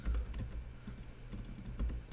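Rapid, steady clicking of fingers typing on a computer keyboard during a statistics session in R, close and fairly quiet, with a few heavier keystrokes standing out and no talking.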